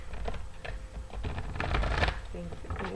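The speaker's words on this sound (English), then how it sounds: "One more shuffle, please." Tarot deck being shuffled by hand: a run of rapid, close papery riffles and flutters in uneven bursts, fairly loud, with a voice occasionally speaking over it.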